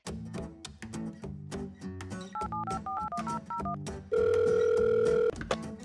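A telephone dials a number: a quick run of low button beeps, then a string of paired higher touch-tones, followed by a loud steady tone lasting about a second before a brief click.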